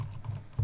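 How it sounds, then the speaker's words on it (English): Keys clatter on a computer keyboard as commands are typed on a Windows 11 PC, a very short run of soft, close taps with a low hum beneath. "type all these commands carefully and hit enter to execute them"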